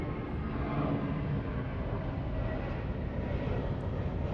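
A China Southern Cargo plane approaching Los Angeles International Airport out of cloud cover gives a steady, broad jet roar that holds at an even level throughout, with no talk over it.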